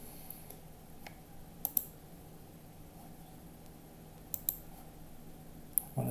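A computer mouse clicks sharply a few times over a faint hiss. There are single and double clicks spaced apart across a quiet stretch, with no talking.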